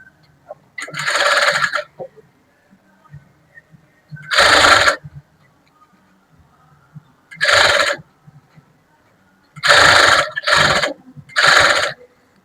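A sewing machine stitches fabric in five separate loud bursts of rapid whirring, each lasting about half a second to a second, with quiet gaps and faint handling noise between them.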